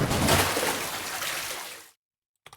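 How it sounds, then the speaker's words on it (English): A water splash sound effect used as an audio drama transition: a loud, sloshing burst of water that fades out over a couple of seconds, followed by silence and a faint brief trickle. "So we have a splash down here"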